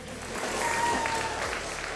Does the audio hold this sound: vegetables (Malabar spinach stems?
no